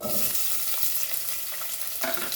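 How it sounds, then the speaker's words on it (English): Onion frying in about a tablespoon of oil in a pan gives a steady, bright sizzle with a brief crackling flare near the end. "So I have taken around 1 tablespoon of oil, and now we will fry this onion"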